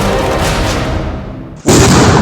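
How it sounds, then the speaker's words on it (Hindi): A controlled blast destroys an IED on the Srinagar–Baramulla highway in Kashmir: a sudden loud explosive boom cuts through steady outdoor rumble near the end, followed by a broad roaring wash of noise. "इस आईडी को यहां पे तबाह कर दिया गया एक कंट्रोल ब्लास्ट के जरिए"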